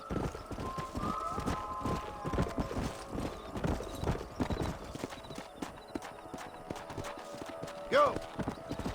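Rapid clip-clop of galloping horses with a neigh near the end, layered over a busy Red Dead Redemption game soundscape with some voices.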